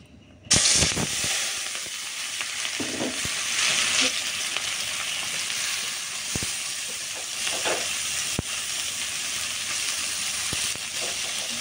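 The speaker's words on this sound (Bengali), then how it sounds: "তো এখন যে হাতে মাখায় রাখছি আমি মালায়া মাছটা, এটা এখানে ছাইড়া দেব এই তেলের মধ্যে।" Marinated malaya fish dropped into well-heated oil in a wok bursts into a loud, steady sizzle and hiss that continues without a break for about eleven seconds, with a few faint clinks and stirring sounds.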